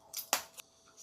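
Kitchen scissors cutting fresh guava into chunks for homemade dog food, a few quick faint snips close by in a quiet room.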